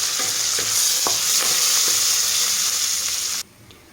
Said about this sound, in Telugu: పోపు మంచిగా వేగిందండి,